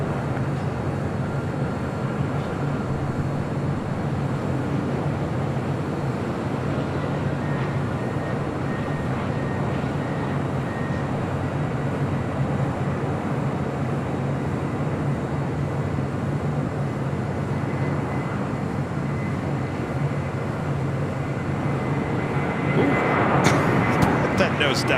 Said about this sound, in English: Next arrival on the north side is United Airlines Flight 2166 coming up from SFO, a 737-900 ER